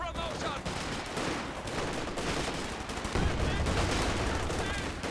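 Dense gunfire in the World War II strategy video game Company of Heroes 2 rattles on continuously with layered bursts and impacts, loud and busy throughout, swelling slightly near the end.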